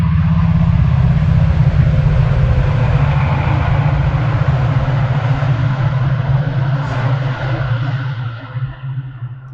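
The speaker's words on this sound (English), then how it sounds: "oh, well, if this train breezed by." A train rumbles by with a loud, steady low roar and broadband rushing noise throughout, easing slightly toward the end as it passes.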